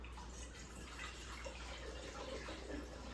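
Kombucha being poured for a second ferment, a steady trickle of liquid running continuously at a low, even level with no voices.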